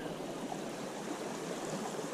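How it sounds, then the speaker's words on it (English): A small creek runs beside a busy hiking trail in the Eastern Sierra's Little Lakes Valley, giving off a steady, even rush of flowing water that holds a constant level throughout, with no voices over it. "Nice little creek."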